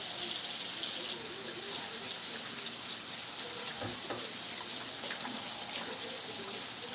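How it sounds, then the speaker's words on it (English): A kitchen tap runs steadily while hands are washed, a continuous faint hiss of flowing water with no pauses. "I'm gonna go ahead and wash my hands again."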